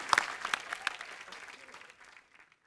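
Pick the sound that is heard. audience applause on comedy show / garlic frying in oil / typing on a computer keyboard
audience applause on comedy show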